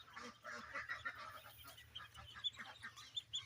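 Around 200 kalaring cross duck chicks, 15 days old, peep and chirp together in soft, faint, overlapping calls, a busy brood heard at low level with a little background hum.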